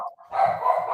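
A dog barks once up close, a short loud sound that trails into a sustained yip, with no other sound over it.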